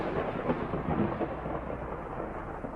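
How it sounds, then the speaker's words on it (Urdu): Heavy rain pours down in a dense, steady roar with a low rumble beneath it, loud and continuous with no voices. "پھر بارش زور سے ان دونوں پہ برس رہی تھی"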